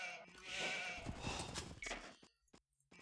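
Sheep bleat in Age of Empires II, a few blaring game calls at moderate loudness that fill the first two seconds, then short clicks trail off into near silence.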